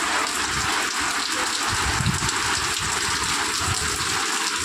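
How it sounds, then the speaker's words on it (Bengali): A downpour of intense rain hisses and drums continuously, loud and near, an unbroken wash of water with no talking over it. "প্রচণ্ড বৃষ্টি।"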